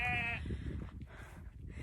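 A short sheep bleat at the start, fairly close, then it fades into steady outdoor rumble and faint background noise in the English countryside.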